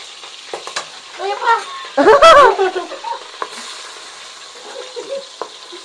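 Green chillies and curry leaves fry in hot oil with a steady crackling sizzle, a brief louder burst of spattering midway, and a voice briefly heard over it.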